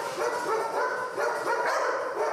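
Sniffer dogs bark in a dense, continuous chorus, several animals overlapping at steady loudness with no gaps.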